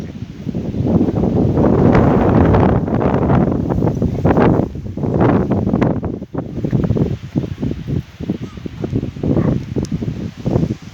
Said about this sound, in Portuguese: Tem muito vento, então não liguem muito pro vento